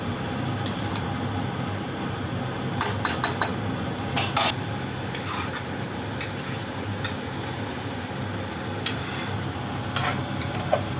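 Chicken and potatoes dry-fried in a pot without water, stirred with a metal spoon: scattered sharp clinks and scrapes against the pot ring out in bursts over a constant background hum.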